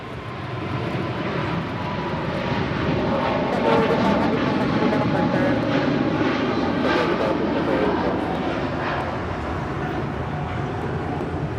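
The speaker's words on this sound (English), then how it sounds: "That is Cathay Pacific Flight 885 departing to Hong Kong on a 777-300 ER in the One World livery." A Cathay Pacific Boeing 777-300ER in oneworld livery departs Los Angeles International Airport, its jet engines a steady, loud roar that swells and holds for several seconds before easing slightly, heard from a distance with no talk.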